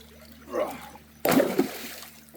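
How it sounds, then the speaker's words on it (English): Water splashes during gold prospecting, with a soft slosh followed by a sharp, loud splash and trickling runoff, close to the listener. "Sorry for splashing you there."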